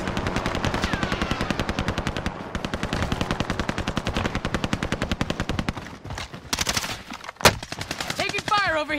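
Sustained automatic gunfire in Call of Duty Warzone, loud rapid bursts rattling nearly continuously, with a sharp single shot near the end and brief gaps as the shooting shifts.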